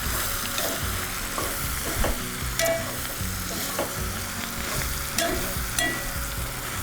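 Santol meat is stirred in a frying pan with sautéed aromatics, producing a continuous crackling sizzle punctuated by irregular scraping and tapping strokes, close and without voices.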